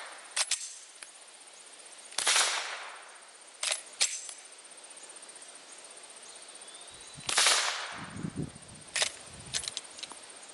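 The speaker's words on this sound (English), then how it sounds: "Let's put in 5 rounds and run it through the suppressor to see if it will cycle." Suppressed 9mm pistol firing 124 grain Blazer ammunition, with five or six sharp muffled cracks at irregular intervals, each a brief burst with a short tail, set against a quiet background.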